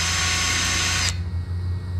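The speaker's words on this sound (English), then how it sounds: "I'm going to go ahead and drill us a hole in each one of these" A cordless power drill bores a hole through metal stock for a DIY disc cooker, a loud steady high-pitched whine that cuts off abruptly after about a second, leaving a low motor hum.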